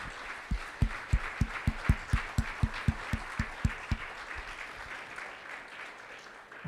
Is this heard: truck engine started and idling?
no